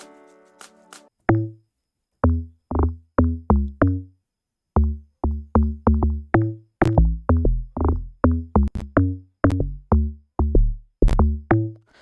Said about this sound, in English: So this is how my logdrum sound like